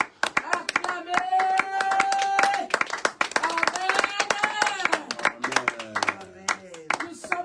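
A church congregation at a French-language worship service breaks into sharp, scattered hand clapping that swells and thins, mixed with voices and shouted exclamations close to the microphone.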